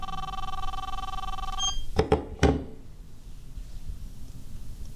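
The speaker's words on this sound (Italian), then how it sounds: "mi sta suonando il cellulare?" A mobile phone rings with a steady electronic tone for under two seconds and then stops abruptly, followed by a couple of sharp handling knocks and quiet room tone.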